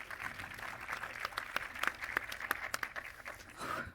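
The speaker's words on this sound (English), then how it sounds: "Give them a round of applause, everyone." Applause for panelists at the #MGF23 games conference, scattered, uneven claps from a modest audience with a steady crowd murmur underneath, fairly quiet and at a distance throughout.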